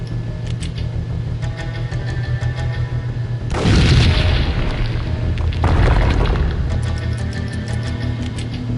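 Trip mines explode in the PlayStation 2 game Max Payne: two loud, rumbling booms a couple of seconds apart over a constant droning game background.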